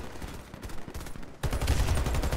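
Gunfire in the video game Warface, bursts of automatic shots that swell into a dense, continuous loud volley in the second half.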